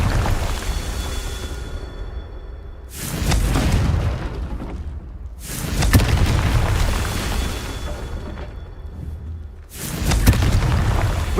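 Confringo blasting spells from the video game Hogwarts Legacy go off as four loud, close booming explosions at irregular intervals, each burst rolling into a rumbling decay before the next hits.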